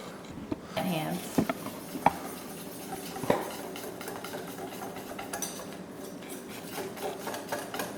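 Protein waffle batter whisked in a bowl, quick scraping and clinking strokes against the bowl, with people talking in the background.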